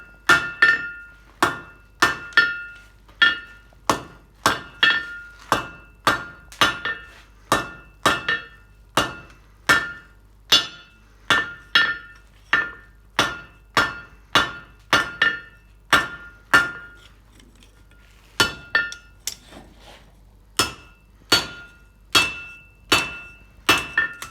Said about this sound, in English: Now I'm going to knock the corners off to make the tip of it diagonal where the edges are flat.